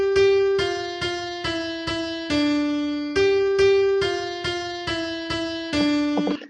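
Notation software plays back the B section melody of Twinkle Twinkle Little Star as a clear, steady line of evenly spaced single notes with a synthetic, piano-like timbre, each note struck cleanly and decaying, with no voices.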